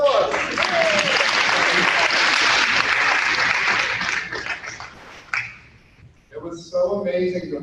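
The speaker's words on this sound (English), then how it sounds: "let's give them a round of applause" Audience at an honor society induction ceremony breaks into loud, dense applause that holds steady for several seconds, then thins out and fades, with a voice speaking as it dies down.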